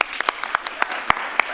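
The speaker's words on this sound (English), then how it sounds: "Warm round of applause." Applause for a cast member in a stage production of The Mystery of Edwin Drood: a short burst of scattered, uneven claps with distinct sharp hand strikes standing out, with a voice faintly present.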